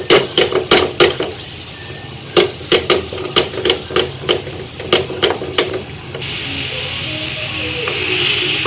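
A spoon works through a thick date bread spread for a child in a bowl, giving a steady run of sharp, close scraping knocks that stop after six seconds and give way to a soft hiss.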